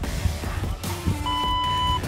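An interval timer app gives a sustained electronic beep that rings out clearly for under a second over steady background noise, following a few shorter tones.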